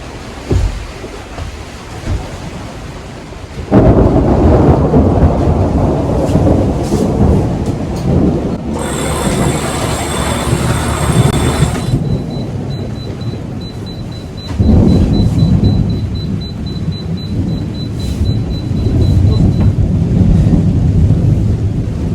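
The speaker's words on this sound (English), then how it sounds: "Ooh, lightning." Thunder rumbles loudly through a storm at sea aboard a sailing boat in Japan, with heavy, sustained low roar of wind, rain and waves around it and no talk.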